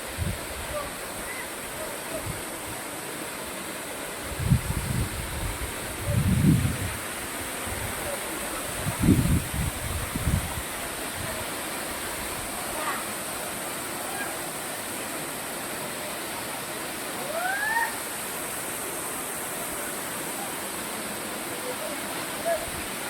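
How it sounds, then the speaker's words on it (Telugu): Steady rushing roar of Gandahati waterfall in Odisha, its flow somewhat reduced, filling the scene evenly, with a few short voices and thumps close by. "గంధహతి వాటర్ ఫాల్స్ అండి ఇది"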